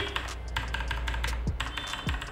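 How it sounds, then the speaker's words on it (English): Keys on an RGB computer keyboard being pressed, a quick run of close, crisp clicks in irregular bursts, continuing steadily with no voice over them. "you can increase or decrease the brightness of the lights by using these keys"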